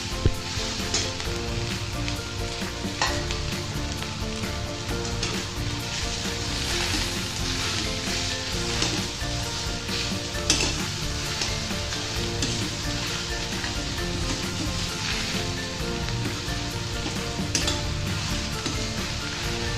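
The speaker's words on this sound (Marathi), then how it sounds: "आता याच्यामध्ये आपल्याला ही हादग्याची कट केलेली फुलं टाकून घ्यायची आहेत. हे हलवून घेऊया आपण." Cut hadga (agasti) flowers are stir-fried in a pan for a vegetable bhaji, giving a continuous close sizzle broken by occasional spoon-stirring scrapes, with no talk.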